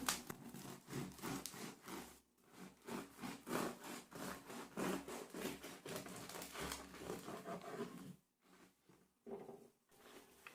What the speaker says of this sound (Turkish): Zaten keserken o güzel çıtırtı sesini de duymuş olmalısınız.